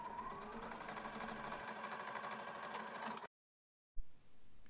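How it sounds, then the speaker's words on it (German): A sewing machine runs steadily, stitching a seam on a crossover shopper bag, with a fast even needle rhythm close by. It stops abruptly, and after a brief silence there is a short clunk and soft handling. "Dann wird das dort zusammengenäht, also genau auf der Linie."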